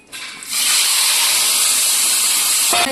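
Tomatoes, chillies and asafoetida hit hot oil and erupt into a loud, continuous sizzling hiss that holds steady, close up, then cuts off abruptly.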